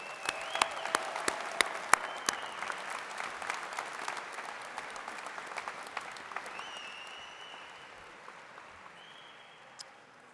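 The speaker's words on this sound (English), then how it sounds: "So please give them a round of applause again." A large audience at a Michigan Athletics graduation ceremony claps in a dense, sustained round of applause that gradually thins and fades toward the end, with no voices over it.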